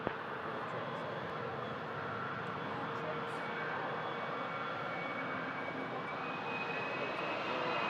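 A KLM airliner on final approach to land at Toronto Pearson, its engines a steady, broad roar that holds evenly throughout and grows slightly louder toward the end, with no talk over it.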